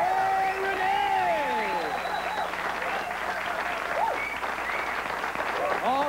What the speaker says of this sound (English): A nice big round of applause for Construction Cutie!